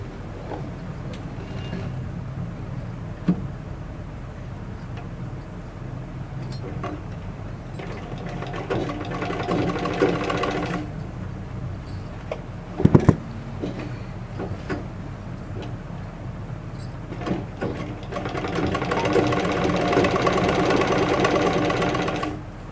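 A domestic sewing machine stitches a blouse sleeve in steady motor-driven runs, pausing and restarting, with a few sharp clicks and knocks between bursts of stitching; no voices.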